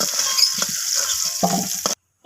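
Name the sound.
cut papaya frying in hot oil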